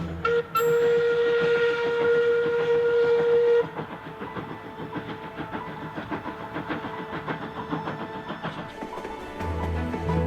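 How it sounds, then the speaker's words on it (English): The Afghan Express train gives a long, sustained whistle blast over the rumble of its wagons. Afterward the clattering, rolling rail noise carries on, steady and moderately loud, with no voices. "This is the train he would have travelled on."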